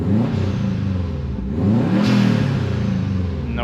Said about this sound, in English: I'm gonna give you guys a couple revs so you can hear how it sounds.